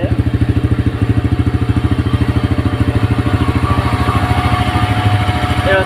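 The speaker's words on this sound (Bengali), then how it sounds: "তো ইঞ্জিনের কাজ করার পরে থেকে দেখেন ইঞ্জিনের কি সাউন্ড" A Raider 125cc motorcycle engine runs after repair work, idling loud and close with an even, rapid thumping beat and a light mechanical clatter throughout.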